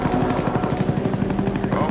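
A Huey helicopter in a first-person shooter game thumps with steady, rapid rotor beats, loud and close throughout, with no voices over it.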